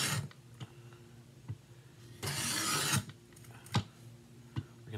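A knife is drawn across a Work Sharp bench stone set at 20 degrees, giving one longer rasping stroke and a few short scraping taps, close and fairly quiet.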